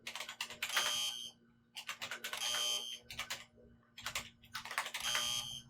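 Keys tapped in the Nancy Drew: Scarlet Hand puzzle game come as three short bursts of bright clicking beeps, each answered by a tonal chime, over a faint steady hum.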